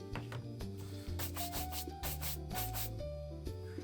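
Restored Doc Martens leather boots being rubbed in quick, repeated strokes, the scrubbing close and steady over a continuous backing of music.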